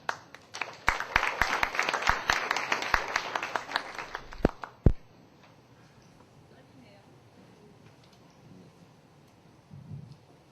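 Audience applause at a church camp forum as a pastor comes forward, a burst of clapping lasting about five seconds with sharp individual claps, then cutting off into near quiet room tone.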